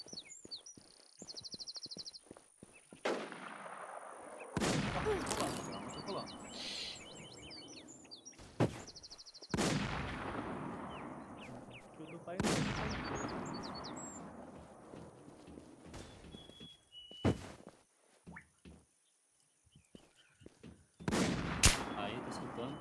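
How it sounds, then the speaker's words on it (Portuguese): Gunfire in the online survival shooter Infestation: The New Z, with scattered sharp shots and bursts breaking out between quieter stretches, some loud and close, others fainter. "Ele acabou de me dar um tiro."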